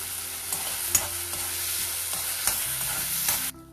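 Tomatoes with a pinch of hing and salt cook in a pan for dal tadka, a steady close sizzle broken by several distinct scrapes and knocks of a spoon stirring, ending abruptly.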